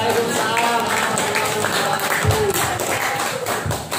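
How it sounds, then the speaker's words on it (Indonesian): An audience at a social media literacy seminar gives a round of applause, steady scattered clapping with some thumps, voices talking over it. "Oke, tepuk tangan"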